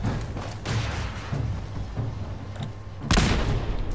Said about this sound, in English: That was a missile.